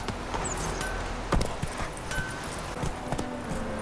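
Roach, the horse in The Witcher 3, gallops on hard ground with a steady run of clip-clopping hooves at close range. The rhythm is regular, with faint ambient game sound under it and no talking.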